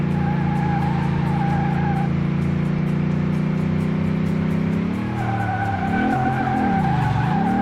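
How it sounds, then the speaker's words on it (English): Ford Raptor drifting in Car Mechanic Simulator 2018, engine droning loudly while the tires squeal in long sustained screeches, the pitch swooping down and up as the truck slides through a handbrake turn. "That was a decent handbrake turn."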